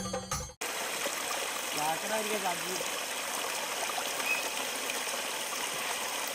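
Water gushing nonstop from an overflowing new borewell at Kakkenchal, Kollada, a steady broadband rush that fills the whole clip after a brief opening sound, with a faint voice murmuring partway through.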